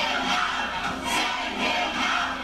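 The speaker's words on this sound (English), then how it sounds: "The overflow crowd demanding Representative Tom McClintock come out and meet with them." An overflow crowd of protesters gathered outside a congressman's town hall in California shouts and chants together, a loud continuous roar of many voices rising and falling in waves.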